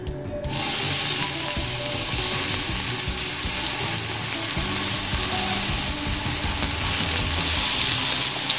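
Thick round slices of eggplant frying in oil in a pan over medium-low heat, a steady, loud, continuous sizzle and crackle that starts abruptly and holds evenly throughout.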